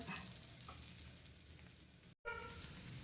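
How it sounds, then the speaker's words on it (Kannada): Dosa roasting on a hot pan gives a continuous soft sizzle throughout, quiet and close, with a brief dropout near the end. "ನೋಡಿ ದೋಸೆ ಒಳ್ಳೆ ರೋಸ್ಟ್ ಆಗ್ಬೇಕು ಆಗ ತಿನ್ನಲಿಕ್ಕೆ ಚೆನ್ನಾಗ್ತದೆ ಬೇಯ್ತಾ ಉಂಟು ಈಗ"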